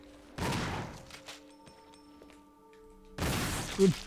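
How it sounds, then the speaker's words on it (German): Two loud, broad gunshot blasts from the Resident Evil video game, one near the start and one after a quiet stretch with faint background game hum, each ringing out briefly. "Das sah aus, als hätte ich daneben geschossen, aber ich habe scheinbar getroffen."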